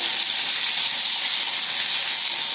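Potato and vegetables sautéing in a kadhai for pulao produce a loud, continuous close hiss and sizzle of hot oil and steam with no breaks.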